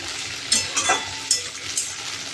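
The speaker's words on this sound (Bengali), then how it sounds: "এবার কাঁকরোলটাকে পেঁয়াজের সাথে কিছুক্ষণ ভেজে নেব।" Spiny gourd frying with onions in a pan for a kakrol dalna curry gives a steady, close, crackling sizzle, broken by a few sharp scrapes of stirring.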